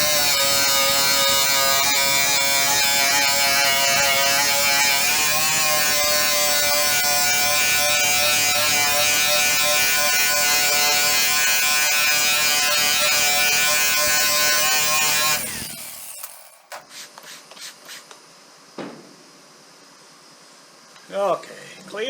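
A buffing wheel whirs steadily and loudly with a strong tonal hum while it polishes an old aluminum canoe, then spins down and stops partway through, leaving a few faint clicks and handling noises.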